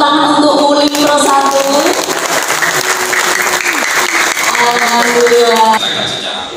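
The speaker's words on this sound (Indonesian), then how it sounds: "Boleh dong kasih tepuk tangan untuk Ulin Pro 1." Sustained audience applause at an Indonesian government office launch event for Ulin Pro 1, steady loud clapping over music for several seconds before tapering off.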